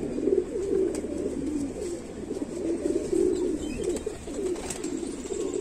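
Pigeons of fancy breeds, including golden, kept in a loft in R.S. Pura, Jammu, cooing in a steady, overlapping low murmur, close and continuous, with faint chirps above and no talk.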